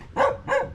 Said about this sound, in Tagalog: Then ito, may mga aso sila dito.